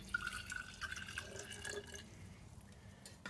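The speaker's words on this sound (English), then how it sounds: "we're going to take the jar, the container, and we're going to pour in our automatic transmission fluid" Automatic transmission fluid poured into a jar makes a faint, close trickle and light dripping, a thin liquid stream that tapers off over a few seconds.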